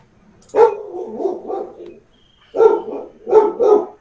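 A dog barks near a microphone during an online meeting, three gruff, drawn-out woofs, each followed by a rough growling tail, separated by silence.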